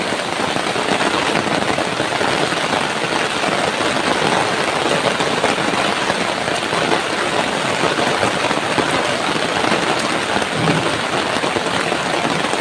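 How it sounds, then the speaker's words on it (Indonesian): Heavy tropical rain pours down with strong wind, a dense, unbroken hiss of drops on surfaces that stays loud and steady throughout, with no voices. "Ngeri sahabat ya, hujannya ngeri."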